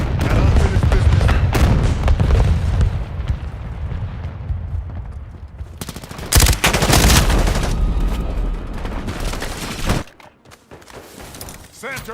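Video game combat with dense gunfire bursts and heavy artillery booms, loud and overlapping, followed by a sudden drop to near quiet near the end; game voice callouts speak over the battle.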